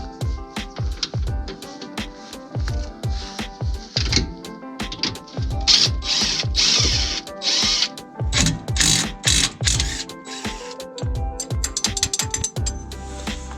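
A part on a car engine is unscrewed with a ratchet, giving rapid, loud close clicking in repeated bursts with short pauses between strokes, no voices.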